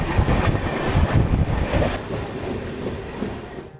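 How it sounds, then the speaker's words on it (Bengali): A train runs along the tracks with a loud, close, continuous rumble and rhythmic wheel clatter that eases slightly toward the end, with no voices. "ট্রেন ছেড়ে দিল"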